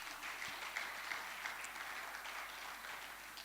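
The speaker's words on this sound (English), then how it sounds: "Can we have a round of applause," Audience applause at the Nigeria Agriculture Awards 2021 ceremony, a steady wash of many hands clapping at a moderate distance, fairly faint and even across the short stretch.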